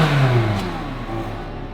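A car with a stock exhaust revs up, a loud, close engine roar with a strong low rumble and falling pitch, then settling into a steady drone.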